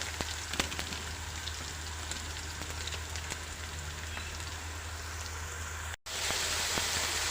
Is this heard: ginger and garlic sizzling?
yes